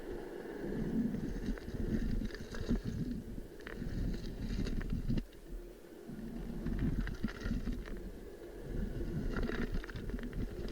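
Boat engine idling during an anchor test over a cobblestone seabed, a steady low rumble carried under gusty wind noise against the microphone, rising and easing in waves.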